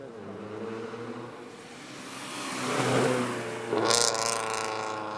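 A Nissan GTR drives past at a night-time car meet, its engine rising from a soft approach to a fairly distant, revving swell and then fading, with no talking.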